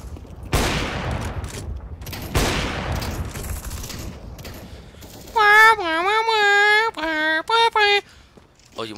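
Two sharp gunshots from CS:GO ring out in the first few seconds, each with a short decaying tail, followed later by a run of bright, warbling melodic tones from the game.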